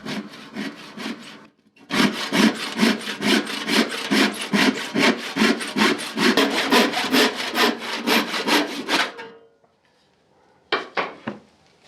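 Hand saw cross-cutting a wooden panel for low-boy furniture, with about two dozen rhythmic rasping strokes up close, then a short pause and a few final strokes.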